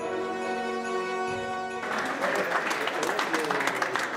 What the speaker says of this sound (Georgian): ასე ტაშით შეეგებნენ საფრანგეთის სავაჭრო ცენტრებში მისულ მოქალაქეებს